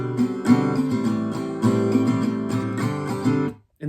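Acoustic guitar strumming a steady chord pattern from a song, close and clear with rhythmic down-up strokes and chord changes, no voices, ending in a brief silence before a final strum.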